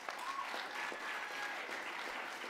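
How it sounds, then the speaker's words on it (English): Audience applause at the National Cartoonists Society Reuben Award ceremony as gold keys are presented: even, continuous clapping from a distant crowd at moderate level. "That's enough for applause right there."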